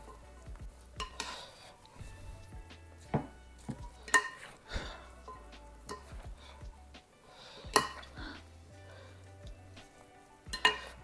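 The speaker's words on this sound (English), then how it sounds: "And add a bit of olive oil. And just mix them up a bit." Eggplant pieces stirred with olive oil in a bowl for an Italian pickle, giving soft wet mixing and scraping with several sharp utensil clinks against the dish, close and alone.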